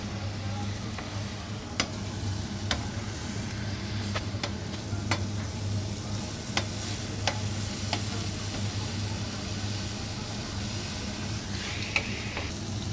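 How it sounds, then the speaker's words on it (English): Cubed potatoes fry in a pan for spicy garlic-and-coriander batata harra, with a constant close sizzle and scattered crisp clicks as they are stirred quickly. "you add the cubed potatoes, and you stir quickly"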